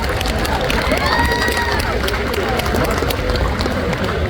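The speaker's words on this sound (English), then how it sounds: "Round of applause for Ms. Isadorable." An audience at a pinup pageant at the New England Tattoo Expo claps and cheers for a contestant, a dense wash of applause with a few whoops and voices mixed into the crowd noise.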